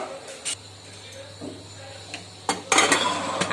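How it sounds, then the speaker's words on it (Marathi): A pressure cooker lid being fitted and closed on a stovetop while making chakli, heard as a few light metallic clinks and knocks, louder toward the end, with a low steady hum beneath. "आणि आता मी कुकरचं झाकण बंद केलेलं आहे"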